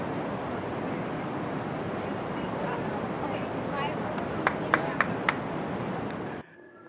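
A breeze blows into Jomblang cave in Yogyakarta, Indonesia, as a steady, even rush of wind noise, with a few faint clicks near the end before it cuts off.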